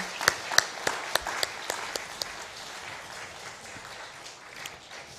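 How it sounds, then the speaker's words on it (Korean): A church congregation applauds during a Sunday worship service. A handful of sharp, distinct claps stand out at first, then fade into softer, scattered clapping from a moderate distance. "여러분, 하나님께 영광의 박수 한번 돌릴까요?"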